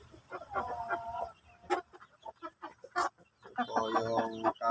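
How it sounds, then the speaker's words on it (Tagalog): Pet Shamo chickens cluck and call in short repeated bursts, with louder harmonic calls at the start and end and quieter clucks and scuffles in between, fairly close by. "ang update natin sa ating mga alagang manok"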